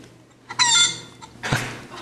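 A hen clucking from an augmented reality card played through a device speaker, two short clucking calls separated by a pause, fairly close and clear against a faint electronic hum.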